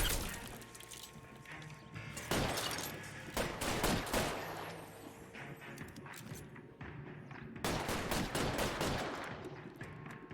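Gunfire erupts in a shootout in the video game L.A. Noire: loud, dense bursts of shots and impacts come in clusters, with crashing, shattering debris between volleys, fairly close and continuous.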